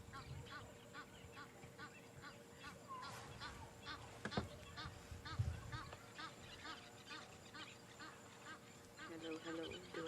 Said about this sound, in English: Oh, we've got the Egyptian geese.